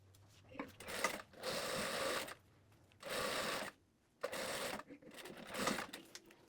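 A sewing machine topstitches fabric for a pair of shorts in several rapid, whirring bursts of stitching separated by short quiet pauses.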